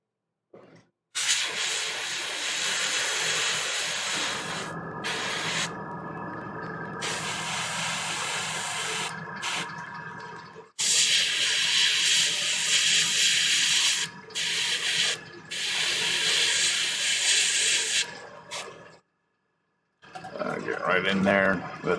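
An airbrush with a fine detail needle sprays red paint onto a Warhammer 40K Magnus the Red miniature, giving close, steady hissing bursts of several seconds each, separated by short silent gaps.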